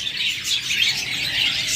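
Pet budgerigars, cockatiels and lovebirds chirp together in a busy, continuous twittering chorus, close and fairly loud with no talking.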